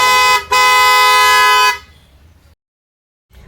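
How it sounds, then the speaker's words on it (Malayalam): A Black Pearl flat car horn on a 2024 Ertiga blares loud and brassy close by: a brief blast, then a longer sustained one that cuts off into silence. "നല്ല അടിപൊളിയുള്ള ഒരു ഹോണാണ് ബ്ലാക്ക് പേൾ എന്ന് പറഞ്ഞിട്ടുള്ള ഒരു ഹോൺ കേട്ടോ"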